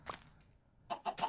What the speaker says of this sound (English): There's a chicken in here. We got multiple chickens.